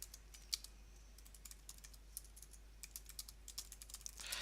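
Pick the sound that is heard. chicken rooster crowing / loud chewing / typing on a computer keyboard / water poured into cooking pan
typing on a computer keyboard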